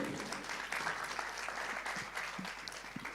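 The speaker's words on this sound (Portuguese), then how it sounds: "Você pode aplaudir o Senhor, louvar o nome dele?" A church congregation applauds the Lord, a soft, fairly distant patter of clapping that stays steady for a few seconds.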